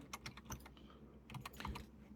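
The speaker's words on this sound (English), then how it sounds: "it is a lot quieter than my old keyboard in the fact that these red linear switches are a lot smoother" Fast, fairly soft typing on a Redragon K587 PRO keyboard with red linear switches, a close, muted run of keystrokes with a brief pause midway.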